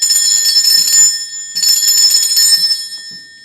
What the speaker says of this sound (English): I am going to be ringing this bell.